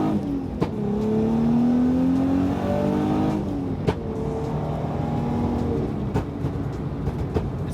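Tuned Nissan 350Z with an Uprev tune and two-step launch control, loud revving engine rising and falling with sharp crackling pops bursting at intervals, no talk.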